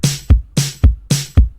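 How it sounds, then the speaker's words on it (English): An acoustic kick and a soft, textured snare alternate in a simple folk pattern, kick on each downbeat and snare between, three clear cycles, close and punchy with no talking. "make sure to put the kick and the snare in a simple folk type pattern that sounds like this."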